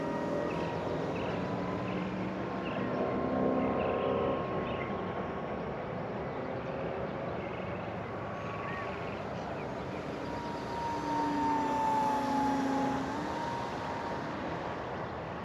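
A DIY cardboard cargo model plane in flight carrying a full water bottle, a steady buzzing electric motor drone with a faint whine that rises and falls slightly, continuous under a broad airy rush.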